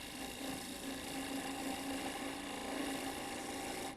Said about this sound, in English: I'll first go down with my bow gouge and just do some steps down like this.